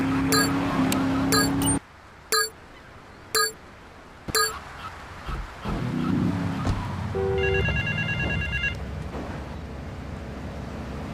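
Telephone ringing in GTA 3 on PC: a short run of sharp, bright ring bursts with gaps between them, followed by a quieter electronic trilling tone over low rumbling game ambience.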